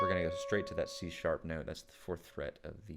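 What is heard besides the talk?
No distinct noise like a dog, phone or traffic.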